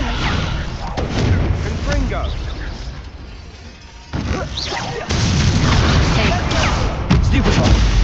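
Repeated Confringo fire-spell blasts in Hogwarts Legacy, several sharp booming bursts with whooshing tails amid combat effects, loud and close, with a voice calling out spells between them.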